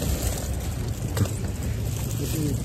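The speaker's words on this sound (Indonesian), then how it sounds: "Teman-teman bisa mendengar suara anginnya ya." Strong wind batters a tent on Mount Telomoyo during a storm, a continuous loud rushing roar with gusty buffeting and occasional flaps, close to the microphone throughout.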